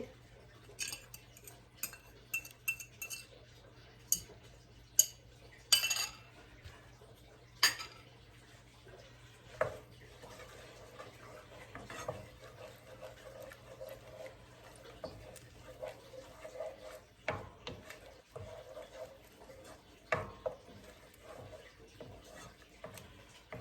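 Eggs, onion and green chili are stirred in oiled frying pan, with scattered metallic clinks and scrapes of utensil against the pan and soft clatter, close and quiet with gaps between strokes.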